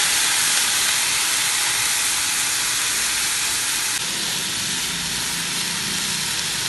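Chicken breast rolls frying in a skillet give a steady, dense hiss of sizzling oil, close and continuous with no talk over it.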